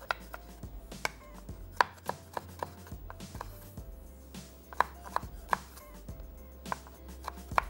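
A knife chops food on a cutting board in steady, irregular taps, close and moderately loud over a low kitchen hum, with no talking.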